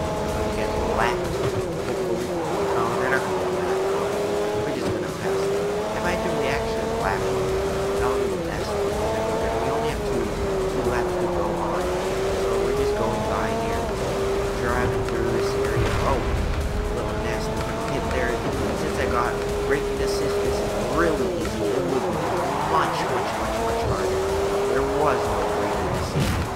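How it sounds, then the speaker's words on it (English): Race cars lap a circuit in Forza Motorsport 4, a steady, loud engine drone rising and falling in pitch as gears shift, continuous throughout with someone talking over it. "we're zooming by and those two cars in the front are gonna get lapped"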